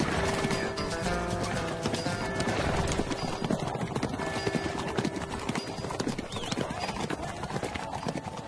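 Horse hooves clip-clopping in steady rhythm, close and loud, with a horse snorting and whinnying; someone speaks over the hoofbeats to calm the animal.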